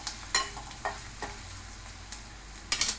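Onion and green chilies sautéing in a pan, a faint steady sizzle broken by a few sharp scrapes of a spoon stirring against the pan, close by, with no talking.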